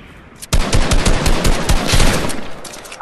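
Loud, close automatic gunfire in a Fortnite battle royale match kicks in suddenly after a brief quiet moment, then sustains in dense rapid bursts of overlapping shots for about two and a half seconds.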